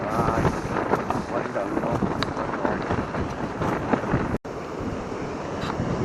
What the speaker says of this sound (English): It's a bloody wind, it is.